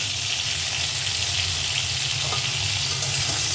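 Ingredients for a katla fish curry with stalks and potatoes fry in a pan with turmeric, a continuous loud sizzle under occasional scraping stirs, close and steady throughout.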